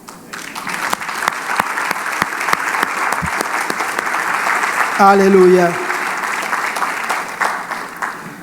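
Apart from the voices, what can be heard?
applause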